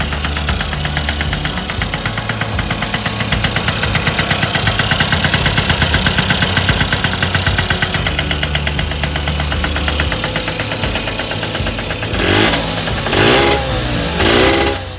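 A 1983 Honda Express II NC50 moped engine, carburettor just cleaned and choke off, runs close by with a steady, loud, buzzing putter that holds throughout, with a couple of brief revs near the end.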